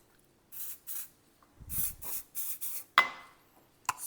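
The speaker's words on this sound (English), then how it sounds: "Spray your glass that you're measuring it into." Several short hissing bursts of olive oil spray onto a measuring glass in quick succession, followed by a couple of light taps of glass.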